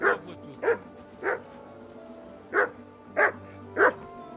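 A dog in the video game Kingdom Come: Deliverance II barks six times in short, evenly spaced yaps over a low, quiet background hum.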